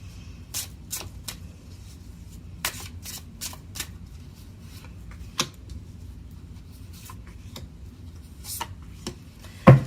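Mystic Moon oracle cards shuffled by hand, soft scattered flicks and taps with irregular spacing over a quiet background, close but gentle, ending in a sharper knock.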